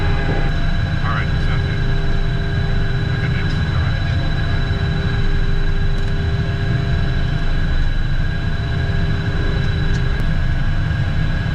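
A steady, loud engine drone with a constant high whine from a Cessna jet taxiing back along the runway at an airport, heard close by and unbroken throughout.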